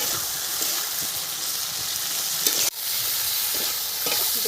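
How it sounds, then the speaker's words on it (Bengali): Ginger, cumin and mustard spice paste fries in a pan in a home kitchen, giving a steady close sizzle and hiss with a brief dip partway through. "আদা জিরে সর্ষে মশলা দিয়েছি"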